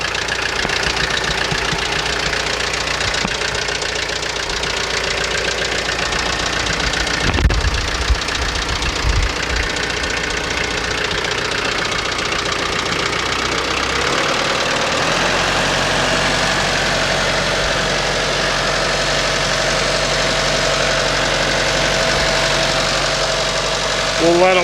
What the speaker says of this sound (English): We'll let her idle just a few minutes here.